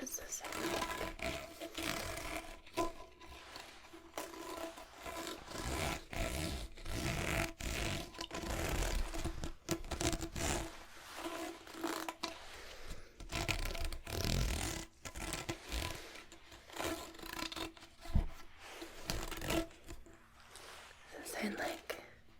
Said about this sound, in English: it pretty much is plastic with ridges